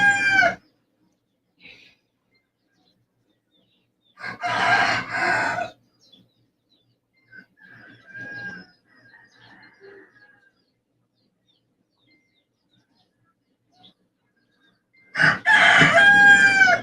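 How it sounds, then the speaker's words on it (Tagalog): Roosters crow loudly in separate bursts at the start, the middle and the end, with softer clucks and calls from nearby chickens in the quiet gaps between them. "My God, ang ingay ng mga manok."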